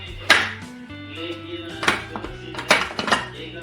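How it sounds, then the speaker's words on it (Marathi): Pressure cooker being opened after cooking chicken popti, with sharp metallic clanks and clinks of the lid and pot at close range over a low steady hum, and brief talk. "तर हे बघा आता आपण कुकर खोलणार आहोत"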